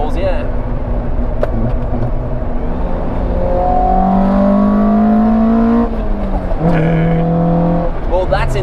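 A tuned Toyota MR2 with a 4AGE 20V engine revs loudly and steadily, its rising engine tone climbing through the middle and dropping briefly before rising again, close by with no talk over it.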